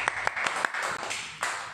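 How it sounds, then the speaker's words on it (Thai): Short burst of studio audience clapping welcoming a guest onto a Thai talk show, brisk and close with a few sharp individual claps, fading quickly with some voices. "ขอเสียงปรบมือดังๆ"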